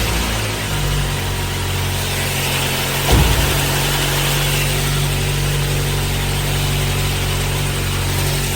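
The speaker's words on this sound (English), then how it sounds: "I'm gonna go ahead and start my car" A car engine runs at a steady idle throughout, a low constant hum with a brief louder surge partway through as it catches, then settling back into an even drone.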